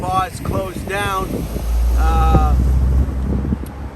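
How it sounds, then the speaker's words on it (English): A big engine passes by outdoors, a deep low rumble swelling in the middle and fading away, with wind noise and someone talking over it. "that was a big engine, but it wasn't a very loud engine"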